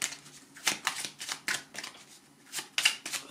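Tarot cards being shuffled to draw a card: a run of quick papery riffles and soft slaps in short bursts, fairly close, with no voice over them.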